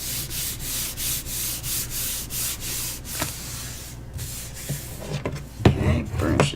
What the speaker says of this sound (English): burnish it down really good